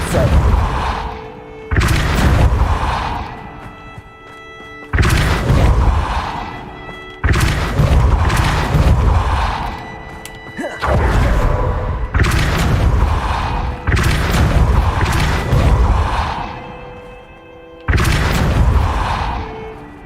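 Depulso spell impacts in Hogwarts Legacy land as a series of about seven heavy booming thuds, evenly spaced every few seconds, each a loud burst that decays into a rumbling tail with faint shimmering magical tones.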